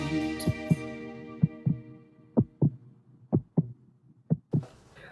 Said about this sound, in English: Can you hear the sound? The life inside every heartbeat.